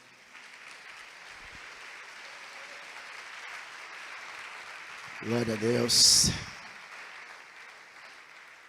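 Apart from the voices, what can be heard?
applause from church congregation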